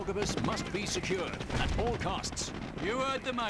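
Units in Company of Heroes trade gunfire in a British mission, scattered shots and bursts crackling under a busy mix of battle noise, with a voice talking throughout.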